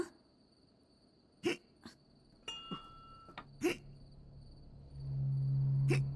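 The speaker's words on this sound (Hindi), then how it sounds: "अरे बाप रे, हिचकियां आ रही हैं।" Several sharp hiccups from a person, irregularly spaced over a few seconds, stand out against a quiet indoor background with a steady high cricket-like chirr.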